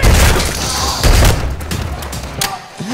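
Close-range gunfire in John Wick Chapter 2: loud, heavy shots burst out at the start, again around one second and once more near the end, over a dense, booming mix.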